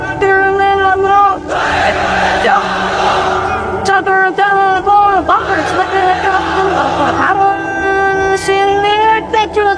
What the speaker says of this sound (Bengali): এবার অবিবাহিতরা দাও লিল্লাহি তাকবীর।